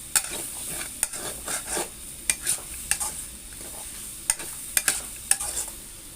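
Snake gourd stir-fried with egg in a pan, a low sizzle under sharp rhythmic clinks and scrapes of a spatula striking the pan every half second or so, close and alone.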